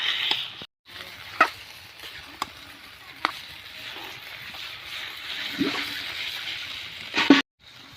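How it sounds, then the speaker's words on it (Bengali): Fish being stir-fried with spices in a pan in a Bengali village kitchen: soft, steady sizzling with occasional sharp scrapes and knocks of a spatula against the pan, fairly quiet throughout. "মাছগুলোকে এভাবে মশলার সাথে কষিয়ে নিতে হবে।"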